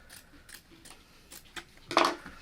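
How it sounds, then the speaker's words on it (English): Quilting fabric being cut into a rectangle with scissors, a handful of quiet, irregular snips ending in one louder cut near the end. "This is ridiculously large, so I'm going to cut out a rectangle first."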